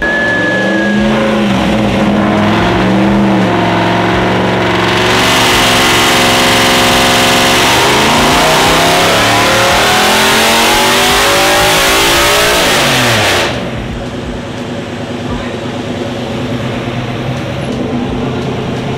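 A BMW E46 drift car fitted with an LS2 V8 revs hard and loud up close, the engine note climbing and sweeping through several blips before dropping back to a rough, rumbling idle.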